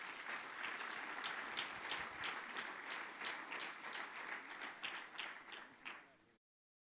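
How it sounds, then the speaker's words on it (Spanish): A church congregation gives the Lord a strong round of applause, a dense wash of many hands clapping together that holds steady, then thins out and stops abruptly near the end. "Dele fuerte el aplauso al Señor"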